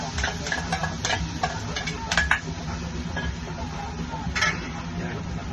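A utensil stirs tortilla española mixture in a hot pan, giving irregular scraping and light metallic clinks against the pan over a steady low background hum.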